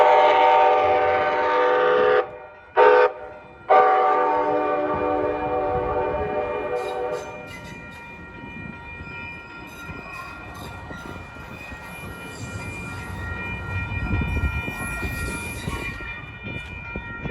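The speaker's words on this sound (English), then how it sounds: "the light rail trains has to proceed at 10 miles per hour or less." Light rail train rolling slowly through a curve at a railroad crossing, opening with loud horn blasts broken by short gaps, then a continuous rumble of wheels with high squeals from the rails as it passes.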